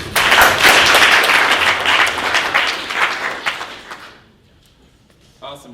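Audience applause at a tech meetup, a dense burst of many hands clapping that swells loud and then fades out over about four seconds, followed by near silence and a brief voice.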